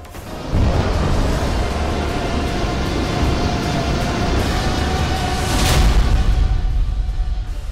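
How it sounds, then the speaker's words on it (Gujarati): A sea mine exploding in deep sea water: a loud, heavy, rumbling roar that starts abruptly and stays sustained and broad, swelling briefly near the end, with no voices. "અને તે ઊંડા સાગરમાં મોટો વિસ્ફોટ કરે છે।"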